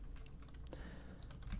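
Rapid keystrokes on a computer keyboard while entering commands into a terminal on a Raspberry Pi, a quiet, fairly steady run of close-miked clicks with no talking.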